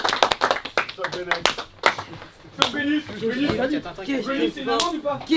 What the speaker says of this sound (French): on peut s'applaudir tous ensemble les gars